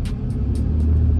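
Dodge Scat Pack muscle car cruising on the drive home, a loud, steady low engine rumble heard from inside the cabin.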